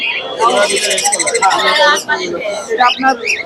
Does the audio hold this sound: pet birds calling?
yes